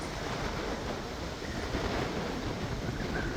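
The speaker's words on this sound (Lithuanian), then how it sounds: "Net šniokščia kaip vėjas pučia čia." Strong wind blowing through Talasnal village in Portugal, a dense, steady roaring rush with no breaks, loud and close like gusts striking the microphone.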